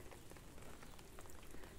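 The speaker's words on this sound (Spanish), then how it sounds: "parece que está ya dejando un poco de llover" Light rain easing off, a steady even patter of drops on surfaces with no talk, fairly quiet and close throughout.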